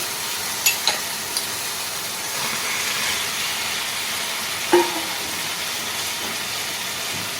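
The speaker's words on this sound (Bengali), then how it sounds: "মশলাটা কিছুক্ষণ কষানোর পর যখন দেখবো হালকা করে তেল বেরিয়ে আসছে তখন দিয়ে দেবো ভেজে রাখা আলুগুলো" Fried potatoes tip into a pan of spice masala cooked down until oil separates, for a taro and prawn curry. A steady sizzling hiss with a few clinks and one sharper splash of sound midway.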